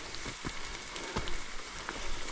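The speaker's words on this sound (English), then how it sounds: "It's really just a light drizzle, but we're still socked in with clouds." Light drizzle falls on the Appalachian Trail under low cloud, a soft, faint patter of scattered drops over quiet background hiss, with a couple of slightly louder taps, and no voices.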